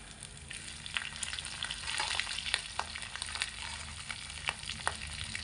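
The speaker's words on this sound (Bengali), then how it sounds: "এবার আমি এর মধ্যে দিয়ে দেব 4টে কাঁচা লঙ্কা, আমি এখানে চিড়ে রেখেছি, সেটাও আমি দিয়ে দিচ্ছি তেলের মধ্যে।" Four slit green chillies and ginger go into hot oil for a pumpkin dish, making a quiet, continuous sizzle with scattered crackling pops and no talking.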